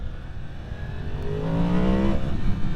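A 2023 Yamaha MT-10 motorcycle with a flashed ECU accelerates hard into a wheelie, its engine note climbing and swelling louder over a few seconds, close and without talk.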